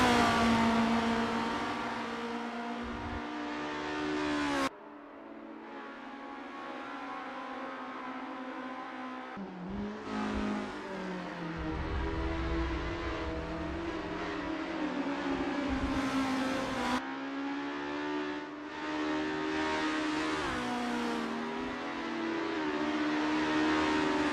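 Open-wheel racing cars from a 1963-era formula championship sim, Estonia-25 cars at Lake Garnett on a practice lap: a loud, continuous engine drone that rises and shifts pitch with gear changes and passes, with no voices.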